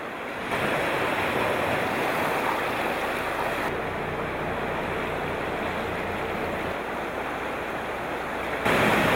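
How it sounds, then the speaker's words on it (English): Tidal rapids at full flow at Nakwakto Rapids, heard as a loud continuous roar of rushing, turbulent water mixed with wind noise on the microphone and no voices. "The following morning we return to Nakwakto to observe the rapids at full flow."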